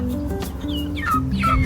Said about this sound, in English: I woke out this morning and there's little chickens